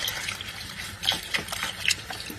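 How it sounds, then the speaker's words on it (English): Stock, a litre plus half a litre of water with a stock cube, pours into a soup pot for polpette in bianco, a steady liquid gush with splashy spikes, close and alone. "At this point, add your stock"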